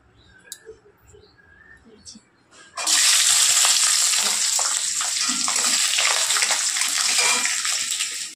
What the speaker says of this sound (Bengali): রসুনটা ভাজা হচ্ছে